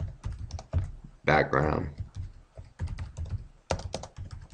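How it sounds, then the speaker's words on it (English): Close clicking keystrokes on a computer keyboard in irregular bursts, with a voice speaking briefly between them. "If I could type, it would be a miracle."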